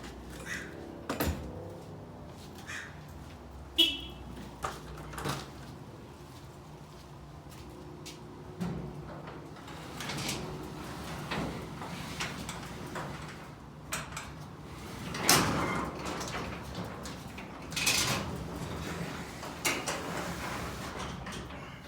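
An unbalanced garage door, lowered by hand after manual adjustment, rumbles and clatters as it closes, with scattered knocks, scraping rolls and a louder thud midway, fairly quiet and with no talk.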